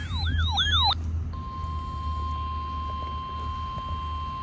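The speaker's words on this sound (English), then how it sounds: "The attention signals you just heard will automatically activate special receivers to warn of the impending hazard." NOAA weather radio weekly test from the National Weather Service: a brief burst of warbling, chirping data tones, then a short pause and a long, steady, loud single-pitch attention alarm that holds to the end.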